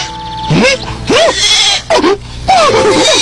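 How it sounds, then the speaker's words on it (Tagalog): A goat bleats loudly and repeatedly up close, wavering cries coming in quick succession. "Tumahimik ka nga, kambing."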